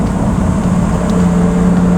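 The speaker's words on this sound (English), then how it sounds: "This car is equipped with the full Novitec exhaust, race exhaust in Inconel material" Lamborghini Huracan STO fitted with a full Novitec Inconel race exhaust, a loud, close, steady high-pitched engine drone held at constant revs for two seconds with no talking.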